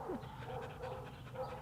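Rapid, steady dog panting up close, quick breathy huffs continuing without pause through the short stretch, no talking over it.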